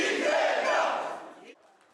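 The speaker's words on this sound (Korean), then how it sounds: "환호가 터져나왔습니다" Supporters holding balloons cheer and shout in a Democratic Party campaign situation room in Jeju as exit polls show Lee Jae-myung ahead, a loud burst of crowd roaring that fades and cuts off sharply near the end.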